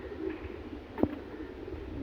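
Caged pigeons give a single brief, soft coo near the middle, over a quiet, steady low background hum with no talking.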